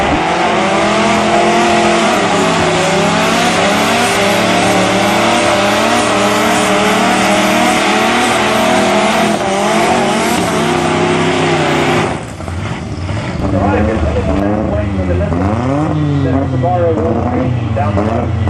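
Honda and Opel drag racing cars at Tarlton Raceway during a nationals event, loud sustained engine roar across the whole stretch with a shift in tone midway, under continuous commentary over loudspeakers.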